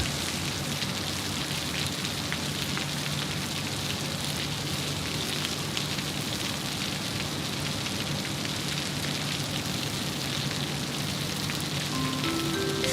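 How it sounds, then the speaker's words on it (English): Heavy rain falls at Sydney Airport at night as a dense, constant hiss that stays loud and even throughout, with a faint rising tone near the end. "Look at that rain just coming down."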